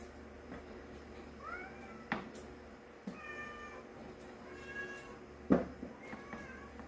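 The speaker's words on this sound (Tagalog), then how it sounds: "Pusa gustong pumasok." A cat outside a house meows repeatedly to be let in, several drawn-out wavering cries at moderate distance over a low steady room hum, with a couple of sharp knocks between them.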